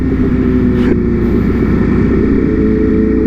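A 2022 Ducati Panigale V4 motorcycle engine drones loud and close while riding, with a brief blip near the start as it downshifts, then settles into a steady, even roar.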